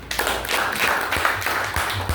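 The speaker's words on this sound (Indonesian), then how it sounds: "Tepuk tangan" A class of students claps together in a classroom, a dense run of overlapping hand claps lasting a couple of seconds, close and fairly loud.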